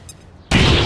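A grenade detonating in the XCOM 2 video game: after a quiet moment, a sudden loud, broad blast that holds as a dense roar to the end.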